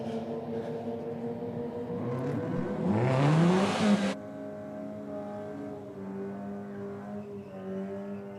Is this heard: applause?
no